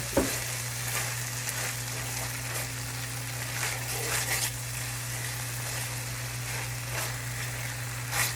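Sloppy joe mixture with sauce, cornstarch and ancho chili sizzles in a pan under a steady frying hiss, with occasional utensil scrapes as it is stirred, over a low constant hum.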